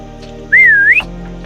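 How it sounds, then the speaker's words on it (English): A Roblox video game plays a whistle sound effect, a single clear, loud whistle that glides up and down for about half a second over a steady low game hum, then cuts off. "all that was left to do was to script the system that actually allows us to use the whistle feature"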